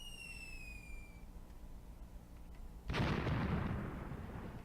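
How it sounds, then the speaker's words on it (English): A mortar round lands in the Graviteam Tactics war game, a sudden loud, broad blast that rumbles on for nearly two seconds after a quiet stretch marked by faint descending whistles. "my mortars are getting closer to these guys"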